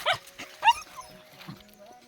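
A dog on a mountain outing lets out a few short yips and barks, then softer whimpering, fairly close, with people talking casually around it.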